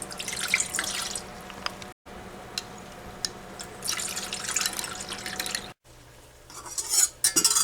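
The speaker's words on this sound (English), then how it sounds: "In a pot, pour in the liquids." Pandan extract and other liquids for a pandan rice cake pour into a pot, giving a steady trickling splash with brief breaks and faint clinks of kitchenware.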